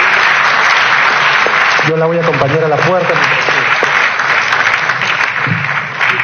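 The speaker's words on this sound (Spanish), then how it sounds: "Le queremos pedir a todos ustedes un fuerte aplauso por haberla tenido acá." An audience at a book presentation applauds a departing guest with sustained clapping, while someone talks over it.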